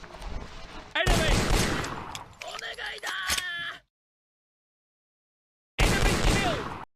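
Gunfire in the video game Hidden & Dangerous 2, loud rapid bursts of automatic shots in two main volleys separated by a silent gap, close and harsh, with game voice sounds mixed in.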